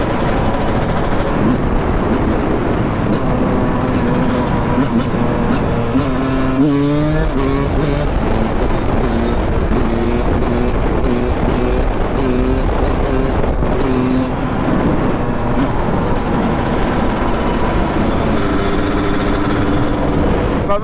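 A Porsche engine pulls steadily while driving, its loud continuous drone shifting pitch as it revs up and down through gears, with no talking over it.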